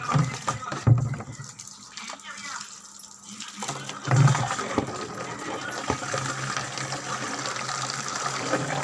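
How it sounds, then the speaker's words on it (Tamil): Salty tap water running through a hose into a container at home, splashing and gurgling with fluctuating intensity, a couple of brief knocks and handling noises early on. "வீட்டில் தண்ணி பிடிக்கிறேன்"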